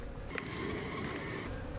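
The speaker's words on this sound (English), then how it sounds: "I could see quite a few bees down there in the bottom." Honey bees in a hive opened for a routine beekeeping inspection give off a dense, steady buzzing hum that stays close and constant for the whole moment.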